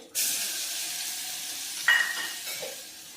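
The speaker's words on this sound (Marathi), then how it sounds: "आता आपल्याला हे छान परतून घ्यायचं आहे" Paste of asafoetida, turmeric, ginger, garlic and green chili hits hot oil with a sudden loud sizzle, then fries steadily while a utensil stirs and scrapes the pan twice, no voices.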